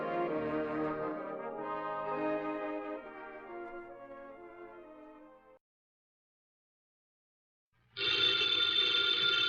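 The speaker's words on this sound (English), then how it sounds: "the ringing of that phone bell brings you mystery, adventure" An old-fashioned telephone bell rings on an old time radio detective show, a long trilling ring that fades out, then a pause of silence before a second loud ring starts.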